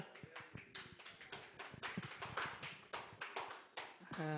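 An audience claps in a series of sharp, uneven bursts that build into sustained applause, with faint talk in the background.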